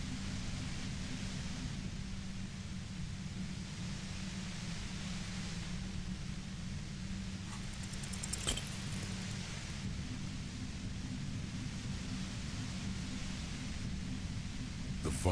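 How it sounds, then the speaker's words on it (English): Steady, dense hiss of white noise beside a compressor in the video game Disco Elysium, loud and unbroken throughout, with a brief brighter crackle partway through and no talking. "The violet white noise becomes even more overwhelming closer to the compressor."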